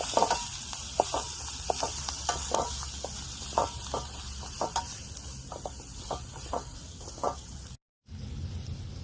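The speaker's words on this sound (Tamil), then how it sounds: "உப்பும் தேவையான அளவுக்கு போட வேண்டியதான். அதுக்கடுத்து வதக்கிடலாம்." Salted ingredients sauté in a pan with a constant sizzle and a regular series of close, sharp stirring scrapes, followed by a brief dropout of silence before the frying resumes; no speech.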